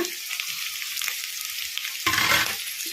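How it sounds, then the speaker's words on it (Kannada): Chopped onions and curry leaves frying in hot oil with popped mustard seeds and cumin over a medium flame, a steady close sizzle that surges loudly near the end as the pan is stirred. "ಉಳ್ಳಾಗಡ್ಡಿ ಗೋಲ್ಡನ್ ಬ್ರೌನ್ ಕಲರ್ ಬರೋವರೆಗೂ ಫ್ರೈ ಮಾಡ್ಕೊಂಬಿಡೋಣ ಮೀಡಿಯಮ್ ಫ್ಲೇಮಲ್ಲಿ"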